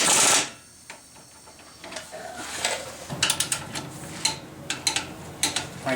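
An impact wrench set to 33 foot-pounds snugs a nut on a Honda Civic front strut, sounding as a loud opening burst followed by a string of sharp, rapid ratcheting hammer clicks close by.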